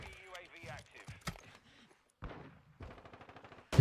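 Video game gunfire, including a player's sniper rifle: sharp isolated shots, then a rapid burst of repeated fire. Loud and close, mixed with voices talking during the shooting.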